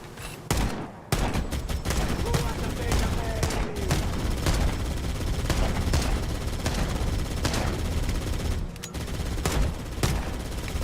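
Sustained automatic gunfire pours into a building in Halo, rapid dense volleys of shots rattling continuously and loudly with brief gaps, no talk over them.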